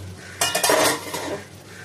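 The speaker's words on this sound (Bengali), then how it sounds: "আমি এবার কিছুক্ষণের জন্য ঢাকা দিয়ে দিলাম" A metal lid is set onto a pan of stuffed pointed gourd (vegetarian potoler dorma) cooking on the stove. It makes a close, short metallic clatter and scrape lasting under a second, with no talking.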